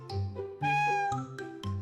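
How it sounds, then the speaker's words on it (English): A cat gives a run of clear, harmonic meows close up, about five calls in under two seconds, one long drawn-out cry in the middle with shorter ones around it. "The brave little golden cat."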